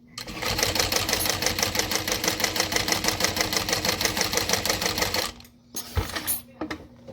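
A sewing machine runs a fast, steady stitch along a backpack seam at 1/8-inch seam allowance, loud and close for about five seconds, then stops, leaving brief handling clatter.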